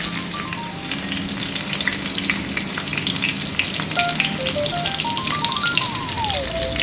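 Onion frying in oil with a bay leaf and cumin for chana masala, a steady, close, bubbling sizzle with a soft melodic tune playing in the background.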